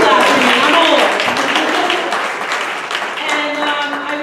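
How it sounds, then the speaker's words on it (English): Audience at a middle school evening event claps for the principal, loud, full applause close by that holds steady and thins slightly toward the end, with voices mixed in. "You can clap for me."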